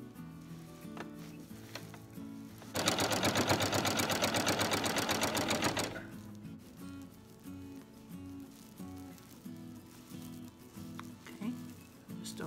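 A sewing machine stitches log cabin quilt potholder pieces in a steady, fast, close whirring burst of about three seconds, standing out between quieter handling sounds.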